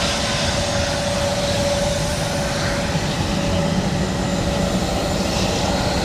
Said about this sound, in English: Here comes our EasyJet on the right hand side of us there, which is looking fantastic, sounding big